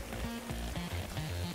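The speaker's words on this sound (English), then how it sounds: "raindrops" Rain falls onto water in the game Morrowind as a steady soft pattering hiss, with low tonal game music looping underneath.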